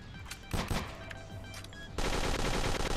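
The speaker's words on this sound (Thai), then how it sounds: "ยิงระยะงี้ไม่โดนอีกเหรอวะ" Gunfire in the Storm Area 51 game rattles in rapid bursts, scattered shots at first, then a dense continuous automatic volley in the final second.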